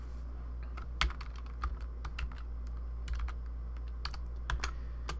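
Typing on a computer keyboard to enter a word of text in photo-editing software, with a handful of quick, close key clicks in short irregular bursts over a steady low hum.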